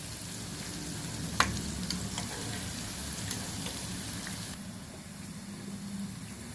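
Okra pakoda deep frying in hot oil, a steady soft sizzle and bubbling with a light clink of utensils, heard alone without talk.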